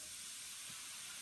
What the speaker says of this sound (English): It's like fizzing everywhere, water going everywhere.